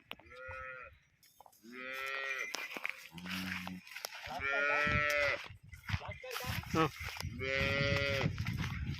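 A cow moos loudly several times in a row, long drawn-out lowing calls separated by short pauses, close by.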